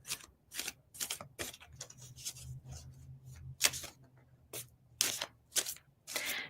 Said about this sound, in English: I'm going to give the cards one more shuffle